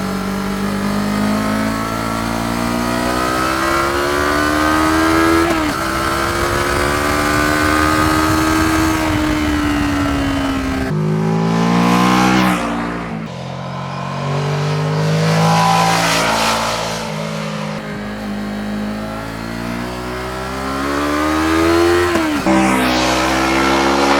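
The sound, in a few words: motorcycle engine revving louder at higher revs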